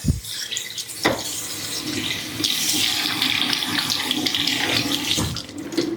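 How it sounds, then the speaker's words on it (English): Running water rinses out the dirty-water tank of a UWANT D600 wet dry vacuum at a sink, a steady splashing wash with a few sharp knocks and clunks from the plastic tank being handled. "We'll just rinse out our water"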